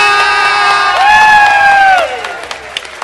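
A large crowd cheers and shouts loudly at a BlazBlue fighting game tournament final, with a rising whistle-like tone sustained over the roar before the noise drops off into scattered calls.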